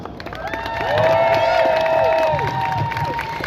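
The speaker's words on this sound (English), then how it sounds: "We're going to give Angela a big round of applause." A protest crowd in St Peters Square, Manchester, claps and cheers to welcome a speaker named Angela, with loud rising shouts and whoops over scattered applause nearby.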